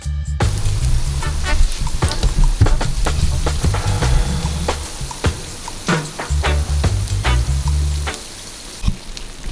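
Dumplings sizzle and crackle in hot oil in a pot, a close, steady frying hiss with popping bursts that carries on without pause and with no voices.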